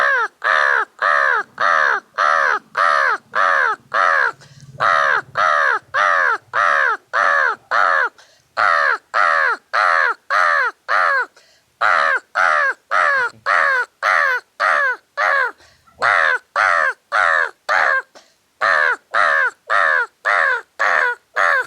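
A man imitates a crow with his voice, giving a long run of loud, rhythmic caws in quick succession with only brief pauses between bursts.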